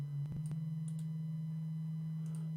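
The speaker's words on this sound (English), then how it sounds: "So this is a sine wave oscillator." A steady low-pitched sine tone from a sine wave oscillator, around 55 hertz, hums continuously, with a few faint clicks near the start, otherwise alone and unchanging.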